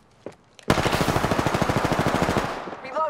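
Sustained automatic gunfire from Apex Legends, a fast, loud, evenly spaced burst of about two seconds that starts abruptly after a brief quiet and then cuts off.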